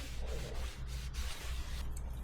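A rag wipes an oily new rear brake part for an Acura RL, a soft close rubbing with several quick strokes, quiet and without talk.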